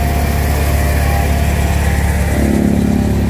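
A multi-crop thresher driven by an Eicher 557 tractor runs loudly and close, a steady droning engine and machine roar with a constant hum throughout.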